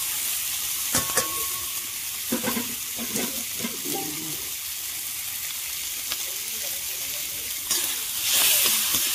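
Masala spices fry in a pan with a steady, close sizzle. A few sharp clinks and scraping stirs come through, with louder hissing near the end.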